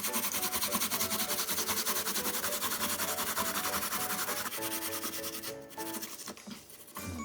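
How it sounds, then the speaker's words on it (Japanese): Chinese yam (nagaimo) is rubbed on a metal grater in steady, fast rhythmic rasping strokes, close and continuous for several seconds, then slowing and breaking up near the end. "長芋すりおろしていきますかね。 よいしょ。 からおろし金でおろします。"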